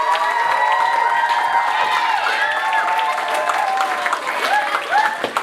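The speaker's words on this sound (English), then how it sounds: "Can we give a huge round of applause to our parents and Miss Sampaio for the wonderful performance?" At a school talent show, an audience claps loudly for a performance. Children shout and cheer over the applause, with high excited voices and whoops rising throughout.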